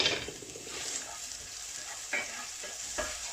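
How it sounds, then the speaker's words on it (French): A spoon stirs a seasoning of fish filling with coriander, flat-leaf parsley and harissa for fish bourek, soft scraping and wet mixing close up, with a few sharper taps against the bowl and no speech. "Et je mélange."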